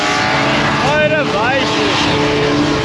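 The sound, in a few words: car doing burnouts at motor show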